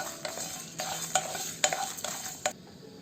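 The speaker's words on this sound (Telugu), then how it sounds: "ముందుగా ఒక ప్యాన్లో కొంచెం జీలకర్ర, ధనియాలు, మిరియాలు, అలాగే కొంచెం ఎండుమిరపకాయలు వేసుకొని 2 నిమిషాలు ఫ్రై చేసుకోవాలి." Cumin seeds, coriander seeds, black pepper and dried red chillies dry roasting in a pan for rasam powder, with a steady dry crackle broken by several sharp scraping stirs, close and moderately loud, no voices.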